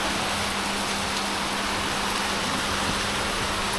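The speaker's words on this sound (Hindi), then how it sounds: "ये मस्त रेन है क्या?" Heavy rain pours down in a dense, steady hiss, loud and continuous with no pauses, and a faint low hum runs beneath it.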